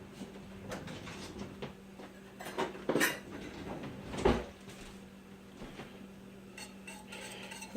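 Cream and sweetener are stirred in a pot, with scattered utensil clinks and scrapes against the cookware and a couple of louder knocks over a low background hum.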